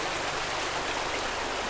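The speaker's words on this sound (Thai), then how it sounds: "มันคงเสียงของน้ำตกจริงๆอ่ะ" Water pouring steadily over rocks in a small garden waterfall, a close, dense, continuous splashing rush with no pauses.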